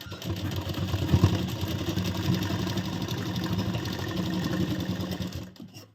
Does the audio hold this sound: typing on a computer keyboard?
no